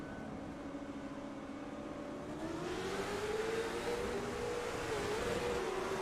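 A race car engine in a racing video game drones steadily and fails to shift up, its pitch holding then climbing gradually as it strains in one gear, loud and continuous with no talk.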